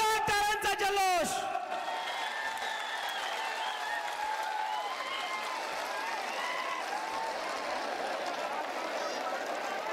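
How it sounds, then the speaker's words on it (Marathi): Crowd at a political speech rally in Beed breaking into loud, sustained applause and cheering after a brief announcer's voice, a dense roar of clapping that holds steady throughout. "एकदा जोरदार टाळ्यांचा जल्लोष।"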